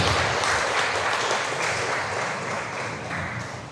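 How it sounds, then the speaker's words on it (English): A church congregation at a lay chapter ceremony applauds, producing a broad, steady wash of many hands clapping that slowly fades toward the end. "Let's give them our round of applause."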